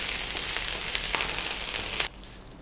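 Spring onions sizzle and fry in a hot wok, a dense crackling hiss with a few sharp pops, stopping abruptly near the end.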